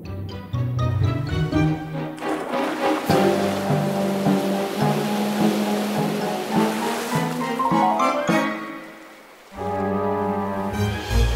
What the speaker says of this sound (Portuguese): Aquelas ondas gigantes.